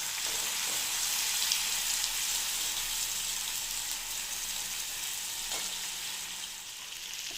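A liquid spice paste hits a hot pan for a restaurant-style dahi tikhari, hissing in a bright, steady sizzle that eases slightly over several seconds, with a couple of soft stirring knocks.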